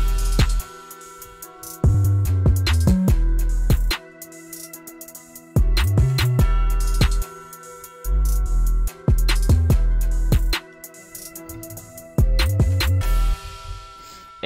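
An energetic drill beat with booming sliding bass, punchy drums and melodic layers, playing in repeating bars with no vocals.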